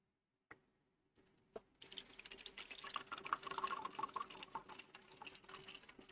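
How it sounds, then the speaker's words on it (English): Water poured from an Arabic tea pitcher: after a few faint clicks and knocks, a steady splashing pour starts and continues, close and moderately loud, with bubbly gurgling. "It's just pouring some water out of an Arabic tea thing pitcher."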